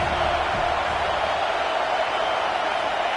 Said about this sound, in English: The Tide crowd roaring noise down onto Saban Field on 3rd down